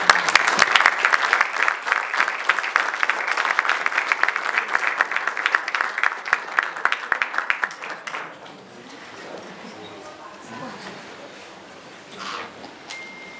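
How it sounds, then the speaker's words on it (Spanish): Strong audience applause at a pig-farming forum awards ceremony as a veterinarian is called to the stage, dense and sustained for about eight seconds, then fading into quieter room noise with a few scattered claps. "para él un fuerte aplauso"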